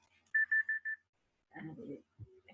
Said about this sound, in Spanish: Me sonó una alarma.